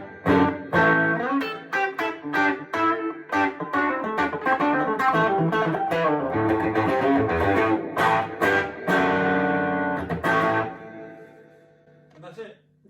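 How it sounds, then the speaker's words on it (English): An electric guitar played loud into a one-knob 1958 Fender Tweed Champ amp with a small reverb pedal, strummed chords crunching with amp distortion in bursts before ringing out and fading at the end. "if I want distortion, I literally just turn the guitar"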